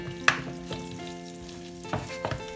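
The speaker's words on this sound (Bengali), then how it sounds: "দেখুন পেঁয়াজগুলো ভাজা ভাজা হয়ে গেছে।" Chopped onion, garlic and sliced green chillies fry in oil in a pan for lentils, a soft continuous sizzle broken by a few sharp clinks and stirring scrapes, close by with no voices.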